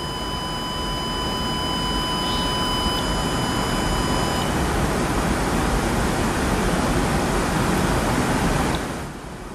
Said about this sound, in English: I'm going to feed these square waves to these buzzers.